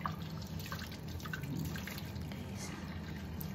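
Water trickles and drips into a sink while tea glasses are washed with dishwashing liquid, a quiet, close splashing with a single spoken word at the start.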